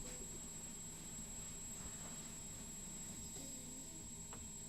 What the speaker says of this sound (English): Can I ask what are these airplane noises in the background?